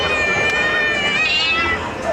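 A cat meows loudly and steadily in a single drawn-out call, close and clear, with faint crowd hubbub behind it.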